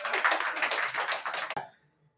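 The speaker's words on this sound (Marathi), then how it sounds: "जोरदार टाळ्या वाजव येशूसाठी." A crowd in a prayer hall claps loudly in a dense, fast patter that lasts about a second and a half, then stops abruptly.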